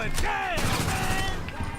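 Gunfire from the video game GTA 5 crackles in quick bursts while a player talks over it.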